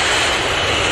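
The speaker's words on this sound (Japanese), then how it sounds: "何の音だ？ こんなところを飛行機か？" A fixed-wing airplane engine flying overhead gives a loud, steady roaring drone that fills the whole short stretch without a break.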